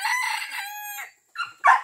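A rooster crows loudly and close in a backyard, one long strident call with several sustained tones, followed after a short pause by two brief harsh clucking bursts.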